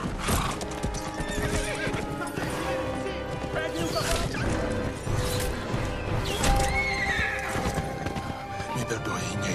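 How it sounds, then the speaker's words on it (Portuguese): Horse neighing and clip-clopping hooves in the samurai video game Ghost of Tsushima, dense and continuous against a loud game soundtrack, with whinnies rising over steady hoof rhythm throughout. "Cavalinho aqui"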